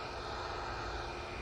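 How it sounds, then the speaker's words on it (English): Ryanair airliner coming in to land, a steady dense engine roar filling a short stretch without letting up. "There's Ryanair coming in"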